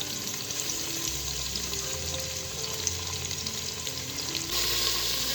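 Onions sautéing in a pan for homemade beef biryani, a steady close sizzle with faint scraping stirs, growing slightly louder near the end, no voices.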